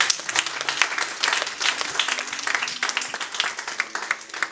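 A church congregation gathered for an Easter Sunday service bursts into sustained applause, dense overlapping claps filling the room for several seconds with a few voices faintly mixed in.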